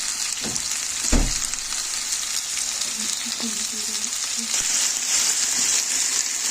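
Potatoes sizzle steadily in a pan with butter just added, a continuous hiss punctuated by a few clinks and stirring scrapes of a utensil near the start.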